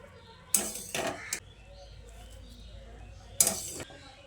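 Boiled soybeans being strained through a metal strainer into a bowl in a home kitchen: three or four sharp metallic clinks and clatters in two clusters, separated by a quiet pause.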